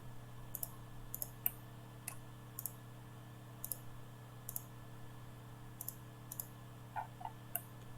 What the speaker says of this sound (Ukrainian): Два рази клікаю в кінці.